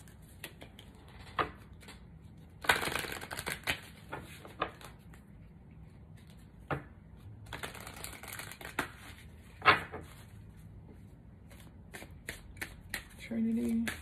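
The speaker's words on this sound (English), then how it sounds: "I'll pull from this deck real quick a few cards." Tarot card deck being shuffled, with repeated soft riffling and flicking bursts spread across the stretch, close and fairly quiet, with intermittent low talk in the background.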